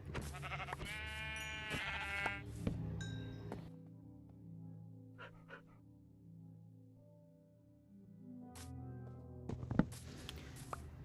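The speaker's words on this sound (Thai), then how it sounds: "อันนี้มาเจอแกะนะครับ อาหารพอดีเลยนะ" Sheep bleating in Minecraft PE, a blocky survival video game, heard as a few short, faint bleats in a quiet game soundscape with light clinks and rustles.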